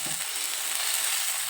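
Cucumber dosa batter hisses on a hot tawa, a steady close sizzle with a soft thump at the start as it hits the pan.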